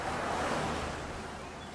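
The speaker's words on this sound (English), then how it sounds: "And the river is much wider and shallower than it used to be." River water flows steadily near Bryson City, North Carolina, a constant broadband rush at low level with no voices.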